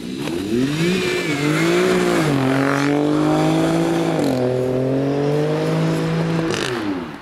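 Alfa Romeo Stelvio QV with its Ferrari-derived engine revving hard, a loud, close, sustained snarl that rises and dips in pitch through several gear changes, alone with no talk.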